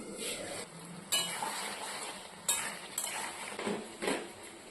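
Chicken pieces fry and get stirred through a spice masala in a pan, a steady close sizzle broken by several sharp scrapes and clinks of the spoon against the metal, with no talking.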